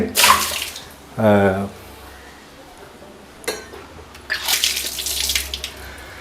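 Water runs and splashes into a cooking pot in two bursts, a short burst early and a longer stream near the end, with a brief gurgling pour in between, close by.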